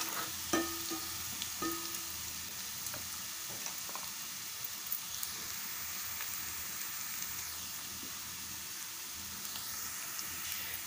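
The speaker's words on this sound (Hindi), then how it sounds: "हमें प्याज को इतना ही भूनना है" Onions fry gently in a pan over a low flame, a soft, steady sizzle with occasional light stirring clicks, close and faint, with no voices.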